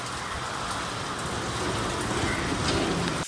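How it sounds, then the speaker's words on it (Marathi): Heavy rain pours down in a dense, steady roar that stays loud and even throughout, then cuts off abruptly at the end. "बघू शकता कसा पडतोय पाऊस."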